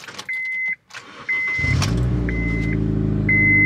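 Race car engine idling steadily after a brief start-up, a loud close rumble with a sustained low harmonic drone and periodic high beeping tones over it.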